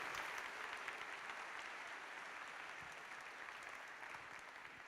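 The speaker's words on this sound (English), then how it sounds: "Everyone, a giant round of applause, please, for Baz Schouten." Audience applause fills a room at the performance.now() 2023 conference after a talk, a steady wash of many hands clapping heard from a distance, fairly faint and evenly sustained, slowly easing toward the end.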